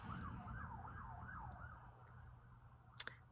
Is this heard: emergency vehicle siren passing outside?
yes